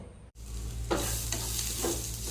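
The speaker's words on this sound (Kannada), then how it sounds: "ಇವಾಗ ನಾನು ಎಲ್ಲವನ್ನು ಫ್ರೈ ಮಾಡ್ತಾ ಇದ್ದೇನೆ" Cloves, cinnamon, pepper and fenugreek sizzling in hot oil, a steady close frying hiss interrupted at the start by a brief gap, with a couple of soft stirring scrapes over a low hum.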